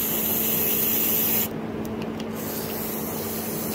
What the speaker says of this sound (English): So you're going to want to spray down in there full.